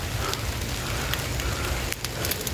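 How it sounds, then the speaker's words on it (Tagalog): Sudden outdoor rain falls as a steady, dense hiss of drops pattering on surfaces, with a few sharper drips standing out, loud and continuous throughout. "bigla na siyang umulan mga tol"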